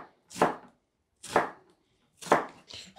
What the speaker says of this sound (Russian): Наверное, лук для начала я возьму. Ну, много не надо, я половинку возьму.